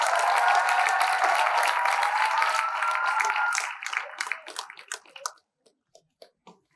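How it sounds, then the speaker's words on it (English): An audience at a school speech applauds the newly elected student council, dense steady clapping that thins into a few scattered claps and then stops. "A round of applause for them, please."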